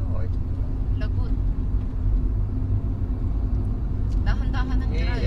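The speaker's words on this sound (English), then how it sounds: "we are driving, going to our place. It's too hilly. It's so narrow." Car driving along a narrow, hilly road on holiday, a steady loud engine and road rumble throughout, close inside the vehicle, with people talking over it.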